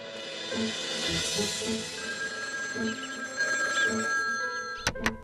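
A telephone bell rings indoors in a cartoon household scene, sounding as a sustained bright trilling ring over a soft background, ending with a couple of sharp clicks.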